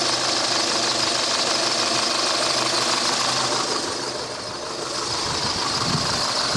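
A 2007 Peugeot 207 with a 1.4 petrol 16-valve engine, just after a cooling system flush following a blown head gasket, runs with a steady close engine drone and a faint knocking texture, continuous and alone.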